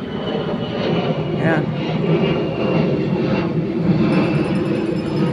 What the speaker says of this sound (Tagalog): May aeroplano. Aeroplano marami rito, maingay.